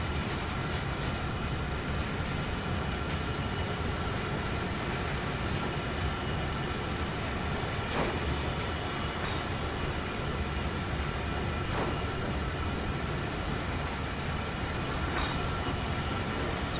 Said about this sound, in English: we've still got 4 locos pulling on the front and 2 pushing on the back